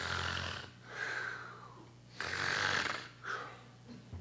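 A voice imitates loud snoring, drawn-out rasping snores and breaths repeating several times, close and alone.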